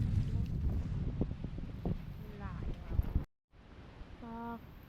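Strong wind gusting outdoors on a boat, loud and blustery with microphone buffeting, cutting out briefly, then a steadier rush with faint tonal squeaks; some voices sound under the wind.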